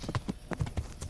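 Horse hooves clip-clop at a steady walking rhythm in the medieval game Kingdom Come: Deliverance, several distinct thuds close and moderately loud, with no talk over them.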